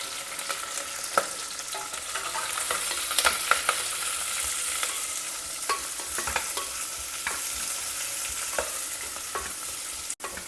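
Sliced onions and fresh curry leaves sautéing in a pan, a steady close hiss of frying broken by repeated scraping stir strokes and a sharp knock near the end.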